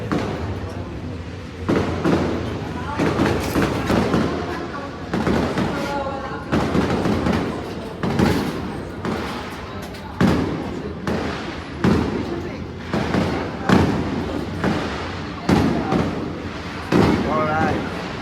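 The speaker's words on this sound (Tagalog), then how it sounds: "May fireworks pa tayo." Repeated loud bangs and crackling bursts of fireworks at a staff party go off in a continuous, irregular barrage, close by, with voices in the background.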